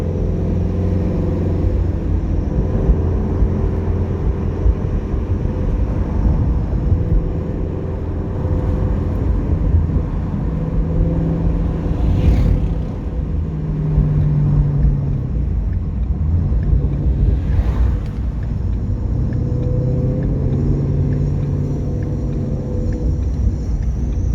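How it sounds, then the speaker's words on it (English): A sports car engine drones loud and steady from start to finish, a deep continuous rumble with slight swells in pitch and no talking. "listen to that engine, man."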